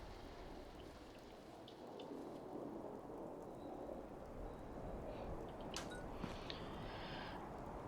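A radiation storm in Fallout 4 brings steady heavy rain with low rolling thunder, a continuous wash of downpour and a few brief crackles near the end.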